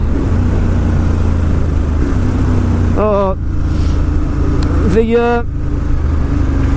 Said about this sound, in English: The Termi pipe sounds brilliant.